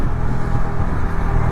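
A wedding car passes on a road, its engine a steady, fairly loud rumble with traffic noise throughout the short moment, no voices.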